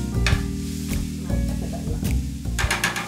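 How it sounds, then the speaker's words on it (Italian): Zucchini dropped into a pan with pancetta make a clattering stir, then a sizzle of frying, with several sharp bursts over a short stretch and no voices. "Allora andiamo a buttare le nostre zucchine."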